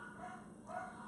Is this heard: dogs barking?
yes